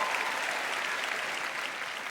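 A stand-up comedy club audience breaks into a brief, dense round of applause. Many hands clap steadily and loudly throughout, with no voices heard.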